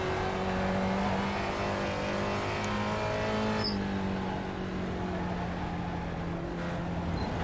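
Spec Racer Ford race car engine in the iRacing sim at Lime Rock Park, a steady loud drone with shifting harmonic pitch as revs rise and fall through corners, one gear change partway, no talking.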